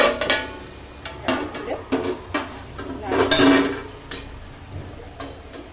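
A lid lifted off a pan of oil-free chicken, then a spoon stirring and scraping the meat over a low-medium flame, with intermittent clinks and soft sizzling in irregular bursts.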